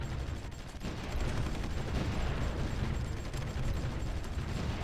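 Artillery fire and battle combat roar in a strategy video game as a dense, continuous wash of distant gunfire and shelling, steady and fairly loud throughout with no voices on top.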